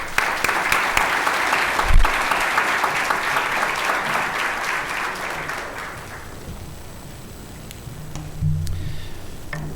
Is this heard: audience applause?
yes